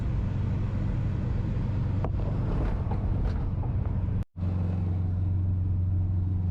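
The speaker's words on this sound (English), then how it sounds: "Engine can't really keep up, so we're down in second." A van engine labours uphill in second gear on a country drive in Tennessee and Kentucky, a loud steady low drone with wind rumble that drops out briefly near the end before resuming.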